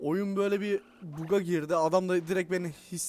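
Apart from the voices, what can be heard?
No everyday noises stand out.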